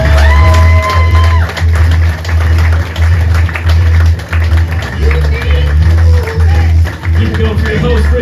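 Comedy club crowd at Laugh Out Lounge clapping, whooping and cheering for a comedian, a loud sustained wall of applause and shouts filling the room, with music or tonal sounds briefly at the start.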